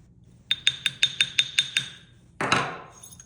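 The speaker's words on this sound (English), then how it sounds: "you can also use hammer to kind of tap it onto the mandrel there" A hammer taps a wire-wrapped ring onto a metal mandrel in about nine quick, bright metallic strikes in a steady rhythm, then one heavier ringing hit that slowly decays.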